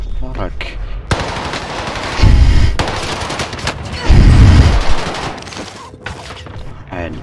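Rapid automatic gunfire in a Call of Duty match on Rebirth Island comes in loud, sustained bursts with brief gaps between them, close and dense throughout.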